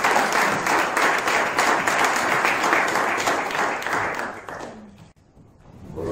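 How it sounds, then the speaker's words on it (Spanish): Loud applause from an audience at an award ceremony, a dense sustained wash of clapping that fades out toward the end, leaving near silence before faint noise returns. "Fuertes aplausos."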